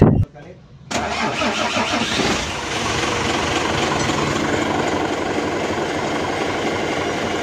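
A Mitsubishi Fuso truck's 6M70 single-EGR diesel engine, which intermittently loses power, starts after a brief quiet moment and settles into a steady, close, even running with no misfire.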